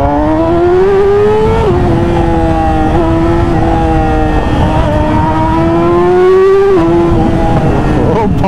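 A loud, modified Yamaha R15 sport motorcycle engine revs hard and steady, its pitch climbing and dropping through several gear changes, close and continuous.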